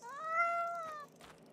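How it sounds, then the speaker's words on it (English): A single drawn-out cat meow from a horror video game, clear and tonal, rising and then falling for about a second before fading into quiet background sound. "Wait, oh, that's a cat."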